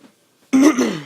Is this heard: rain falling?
no